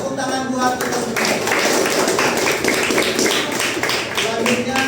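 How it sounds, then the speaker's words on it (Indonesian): A classroom of students claps together in a dense, fairly steady burst of hand claps, close and moderately loud, with voices mixed in. "Tepuk tangan buat kita semua."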